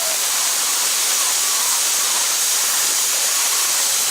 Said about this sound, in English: the canners are ready to steam off for 10 minutes